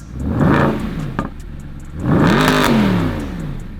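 A Mercedes SLS AMG with its naturally aspirated 6.2-litre M159 engine revs twice, each a loud rising then falling blip close by, with a short idle between.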